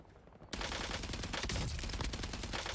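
Sustained automatic gunfire in the Call of Duty Warzone video game, a dense, loud barrage of rapid shots that starts abruptly after a brief quiet moment and continues without pause.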